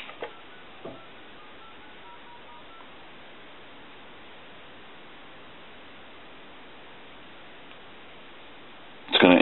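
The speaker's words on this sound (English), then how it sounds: "And then we'll hit redial." A Crosley Retro 302 desk telephone redials over a narrow, hissy phone line: faint clicks and soft tones near the start, a long stretch of steady static, then a sudden loud burst of tone at the very end.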